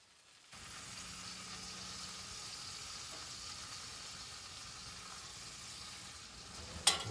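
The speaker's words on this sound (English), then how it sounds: "we're going to take this meat and we're just going to lay it in on this butter" Deer backstrap meat sears in melted butter in a pan, making a soft, steady sizzling hiss that starts abruptly and holds even for several seconds, ending with a brief clink.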